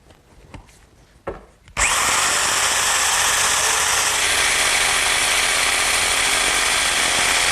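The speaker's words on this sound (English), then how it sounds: "I'll cut it out using my handheld jigsaw" A handheld jigsaw starts up after a few faint bumps and then runs loud and steady, its blade buzzing continuously as it cuts along a traced poster board template outline, close by with no talk.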